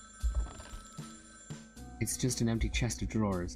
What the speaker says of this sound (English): that's a phone call coming